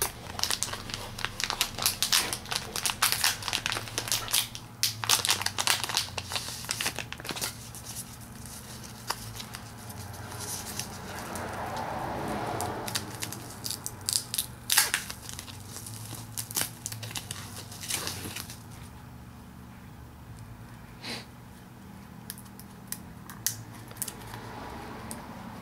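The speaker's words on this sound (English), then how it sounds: "Alright, I got my scissors. I'm gonna be cutting this." Scissors cut open NAND-X packaging, with repeated snips, crinkling and tearing of plastic and cardboard up close. The sounds come in irregular bursts with brief quieter gaps.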